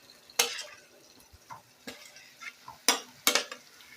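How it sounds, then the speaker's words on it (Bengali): Pomfret fish being stirred into frying spice masala in a pan over low flame, several soft scraping stirs with faint sizzling between them, close and fairly quiet. "একটু নাড়াচাড়া করে নেব।"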